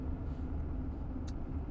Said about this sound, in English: you hear some diesel noise in the cab, but it is not bad whatsoever